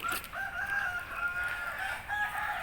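A rooster crows while chickens cluck around it on a Thai farm, the calls coming through fairly clearly over a steady outdoor background.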